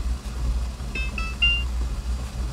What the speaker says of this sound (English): I'm going to go ahead and set the timer for 10 minutes.